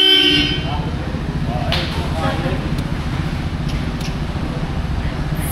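A car horn sounds from inside a car on a long road trip around Mindanao. A short, bright honk comes near the start, then road noise and scattered voices continue.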